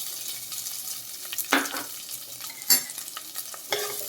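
Chopped onions fry in a pan for a Godavari-style elephant yam and spinach curry, a steady sizzle broken by several louder scraping stirs, close and with no talking.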